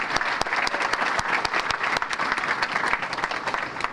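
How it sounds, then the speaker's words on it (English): Banquet audience at the Lorain Sports Hall of Fame enshrinement applauds Tim Alcorn, a steady, full burst of many clapping hands with sharp individual claps standing out, even and sustained with no talk. "A round of applause for Tim Alcorn."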